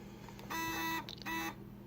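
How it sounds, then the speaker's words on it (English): A password door lock system with alarm, built into a project box, gives two short electronic buzzer beeps from its keypad, each about half a second long and close to the microphone. "It has the buzzer to okay it"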